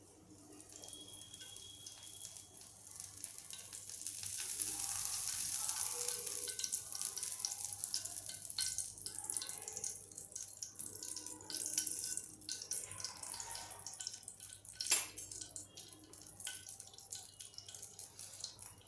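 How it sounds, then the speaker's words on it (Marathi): Oil heats in a pan for tempering while making urad dal bonda, giving a soft, continuous sizzle with occasional crackles and pops, faint and close, with no talking. "तर आता तेल गरम होऊ देते आणि तेल गरम झालं ती फोडणी मग आपल्याला याच्यावर टाकता येईल"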